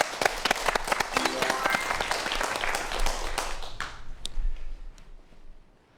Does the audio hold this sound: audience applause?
yes